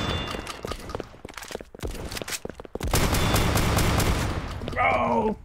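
A Winchester fires in a Roblox shooter, sharp gunshot cracks in quick bursts, loud and close, with footsteps and a brief electronic tone near the end.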